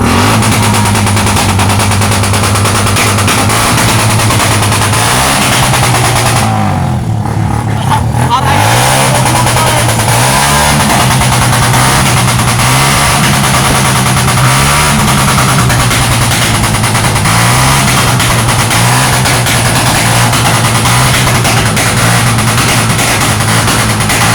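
Loud motorcycle engines drone and rev repeatedly in rising, falling waves at a New Year celebration, close and continuous, with crackling bangs and shouting voices mixed in.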